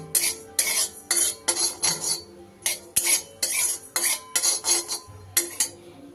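Whole cumin seeds being stirred in a dry, hot pan for dry roasting, heard as a steady run of close scraping, rattling strokes in short regular bursts with no talking.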